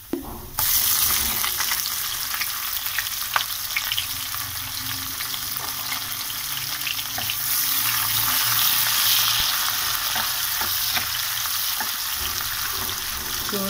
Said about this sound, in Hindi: तो हम प्याज शामिल करते हैं।